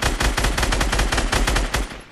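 Rapid automatic gunfire from the video game Fortnite rattles out in a dense, loud burst for about two seconds before cutting off.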